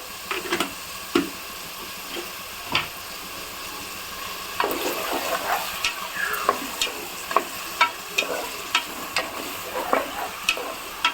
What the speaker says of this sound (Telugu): మంచి గోల్డ్ కలర్ వచ్చేంత వరకు ఎంపుకుందాం